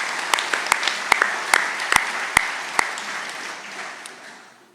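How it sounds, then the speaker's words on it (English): An audience at an electric cooperative's annual meeting applauds in a broad wash of clapping, with sharp individual claps cracking out close by before the sound gradually fades. "let's give them some applause"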